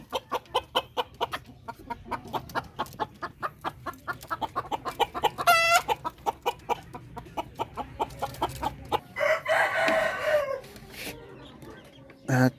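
Young two-month-old Filipino darag native chickens in a backyard farm cluck in a steady run of close, repeated calls, with a rooster's crow rising briefly in the middle and more squawking near the end.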